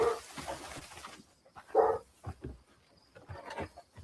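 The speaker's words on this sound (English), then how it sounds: "Dog barking." Dog barking in a house with a backyard, a few sharp barks spaced out amid quiet gaps, fairly close and loud, with faint voices nearby.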